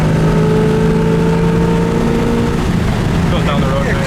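A 1969 Camaro SS V8 driving down the road, a steady engine drone with rising harmonics as it accelerates, heard from inside the car with the windows up.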